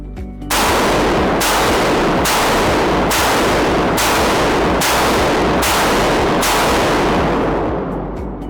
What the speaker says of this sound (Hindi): तो अब हम इसका फायर करके देखते हैं